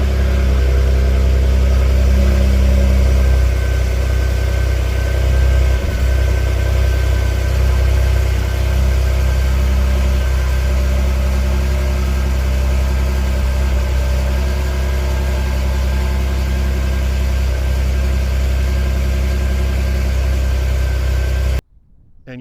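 A Ford F-150 pickup with a 2.7L EcoBoost engine and about 150,000 miles idles just after a cold startup, giving a loud, steady, close-up rumble that holds unchanged before cutting off abruptly.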